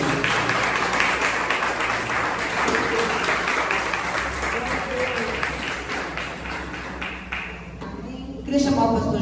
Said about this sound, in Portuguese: as palmas louvam e adoram o Senhor